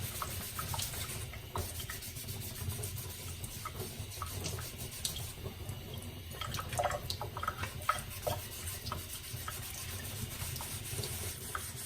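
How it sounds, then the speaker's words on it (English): Steady abrasive rubbing of sanding across a metal surface, continuous and close, with a constant scratchy texture and no talking. "I do go in this sanding direction for the final pass"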